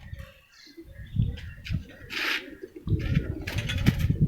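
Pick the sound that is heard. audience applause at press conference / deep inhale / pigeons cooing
pigeons cooing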